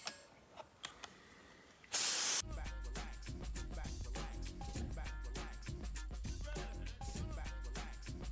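Air hisses from an HVLP spray gun fed by an air compressor in a burst of about half a second, followed by a steady, loud compressor drone with rattling, clattering mechanical noise continuing throughout.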